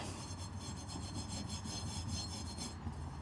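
Steady rapid rubbing of 000 steel wool against a car exhaust tip, a quiet, close scratchy rasp with an even back-and-forth rhythm and no talking.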